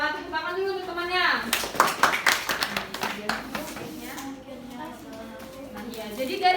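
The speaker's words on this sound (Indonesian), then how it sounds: "Terima kasih olah, tepuk tangan dulu untuk temannya." A school class claps for a classmate during a lesson, a short burst of scattered hand claps under overlapping voices and children's chatter that quickly dies back to talk.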